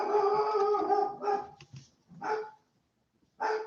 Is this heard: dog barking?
yes